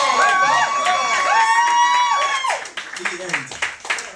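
Audience clapping and cheering at a London fundraising event, with whoops and shouted voices over dense applause that thins out toward the end.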